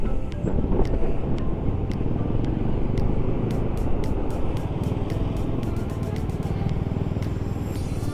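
A scooter fitted with Pirelli Angel Scooter tyres rides along the road, its engine hum and tyre roar steady under heavy wind buffeting on the microphone, with faint clicking ticks throughout.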